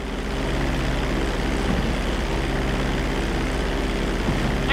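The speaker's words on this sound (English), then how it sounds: "Hold the throttle all the way down to pick up speed, and pull back on the stick to take off." A propeller airplane in Grand Theft Auto V throttles up for takeoff, a steady droning engine hum that stays loud and constant with no talking.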